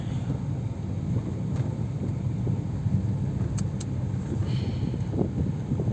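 An auto rickshaw in motion during a ride, its engine giving a steady, close, low rumble mixed with wind buffeting the microphone, continuous throughout.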